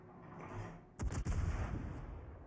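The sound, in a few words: naval gunfire in the video game World of Warships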